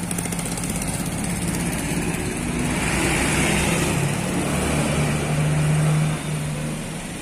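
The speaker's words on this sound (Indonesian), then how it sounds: "Melintas bus James Go. Jet Bus 3 SHD." A Jet Bus 3 SHD tour bus passes a roadside spot at Galendo 2 in Ciamis, its engine drone building to a peak near the end and then easing off, with steady road rumble and no voices.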